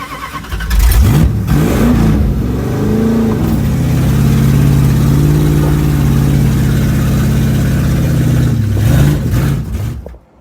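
A car engine, fitted with a swapped 904 transmission, revs up with rising and falling pitch, holds a steady run for several seconds, then sags and cuts out, stalling into silence.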